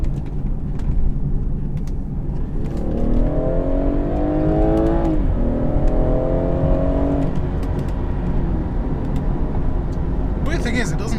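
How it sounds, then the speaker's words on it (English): A 2016 BMW 440i Cabriolet convertible drives briskly through roundabouts. Its engine note climbs in pitch, dips, then climbs again over a steady roar of road and wind, and a voice may be faintly present. "let's see what this convertible is like around some quicker roundabouts"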